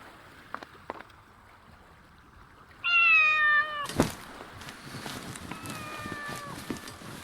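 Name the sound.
cat meowing in the video game The Mystery of the Druids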